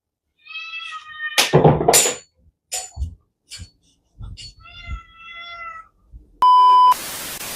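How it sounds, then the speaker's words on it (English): A cat meows several times at close range, with loud, drawn-out cries and a few short ones in a broken rhythm, followed by an electronic beep and a burst of noise. "was that my cat?"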